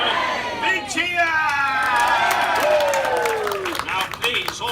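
A Walt Disney World show audience cheering and whooping with scattered clapping, loud and close, a rising chorus of voices swelling and fading after a call-and-response cheer.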